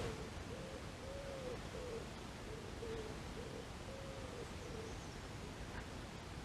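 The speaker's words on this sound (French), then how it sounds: "Tourterelle." A turtle dove coos in a repeated soft, hollow phrase along the Allier river, distant and steady beneath a constant wash of broadband outdoor noise.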